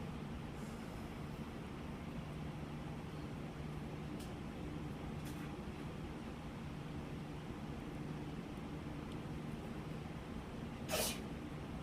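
One sharp sneeze bursts out near the end of a quiet math class, standing alone above a steady low room hum.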